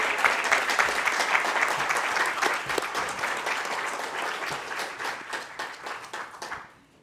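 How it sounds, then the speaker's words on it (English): A room of attendees at a school board meeting applauds scholarship recipients, a dense burst of clapping that holds steady and then thins and fades out near the end, moderately quiet and without speech. "Let's give Jada and Sam another well-deserved round of applause"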